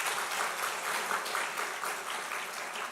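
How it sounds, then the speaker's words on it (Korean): Applause fills a Korean church service to welcome newly appointed choir members, a continuous, moderately loud crowd of clapping hands that fades slightly toward the end. "우리 박수하도록 하겠습니다"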